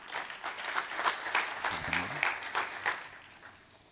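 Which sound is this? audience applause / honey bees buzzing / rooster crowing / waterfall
audience applause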